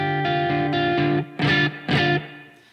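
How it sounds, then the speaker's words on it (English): An electric guitar played through the reverb effect of a Line 6 HD500 pedal rings out in a few strummed, distorted chords that swell and then fade into a lingering reverb tail. "So if you need a little reverb on something."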